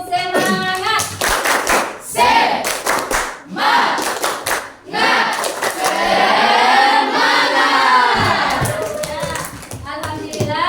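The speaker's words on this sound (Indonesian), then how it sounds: "Tepuk semangat." Classroom of students performing a rhythmic Indonesian 'tepuk semangat' spirit clap, bursts of synchronized hand claps in patterned groups alternating with children's chanting voices.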